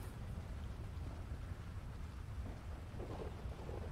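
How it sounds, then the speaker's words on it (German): A thunderstorm in the video game Unity-Life, with low rumbling thunder and a constant hiss of rain, faint and distant, no voices. "Hört ihr, es gewittert?"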